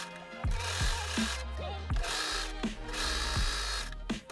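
Sewing machine stitching around the opening of a leg hole on stretchy bike shorts or leggings, quick bursts of mechanical whirring separated by short pauses and clicks, close and clear with no talk.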